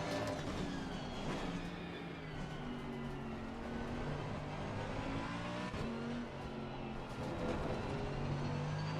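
A racing car engine in a sim race at the Nürburgring climbs steadily through the revs as it powers out of a turn, a loud, continuous close-up drone with brief shifts, under a faint hum of other cars.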